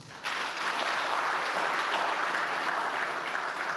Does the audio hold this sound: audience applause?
yes